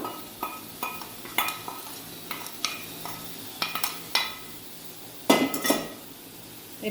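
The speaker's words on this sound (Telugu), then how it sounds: "కొంచెం తాలింపు పెట్టుకుందాం పోపు పెట్టేసుకున్నాను" Spices sizzle in hot oil for tempering while a metal spoon clinks and scrapes against the pan in quick, irregular strikes, close up.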